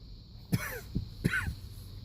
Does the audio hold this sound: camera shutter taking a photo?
no